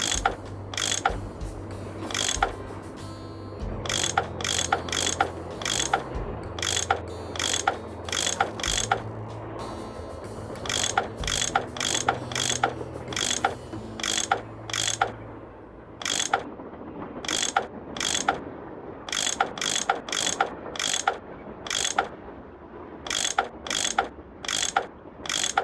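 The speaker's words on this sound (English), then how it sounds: "I bet that's what you use to unscrew these bolts." Mechanical ratcheting from a tool unscrewing bolts in the Nancy Drew game Last Train to Blue Moon Canyon: rapid bursts of clicking come in clusters of short, sharp ticks, with brief pauses between turns over a low game background hum.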